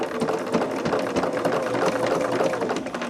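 A sewing machine backstitches a small Christmas kitchen towel, running with a fast, continuous mechanical chatter at a steady close-up level and no talking.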